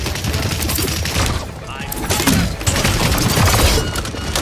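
Rapid bursts of gunfire crackle continuously, with dense overlapping shots and booms from a game battle, loud and chaotic throughout.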